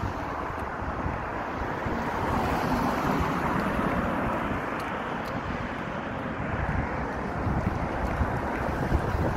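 Steady wind roars and buffets a microphone for the whole stretch, a dense broadband rush with no voices.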